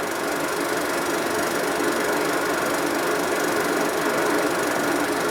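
A 1950s car with a Red Ram engine and gyrotorque drive pulling a heavy load, heard as a steady, dense engine roar with an even, unbroken drone throughout and no talk.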